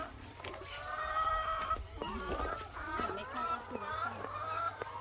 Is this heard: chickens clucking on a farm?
yes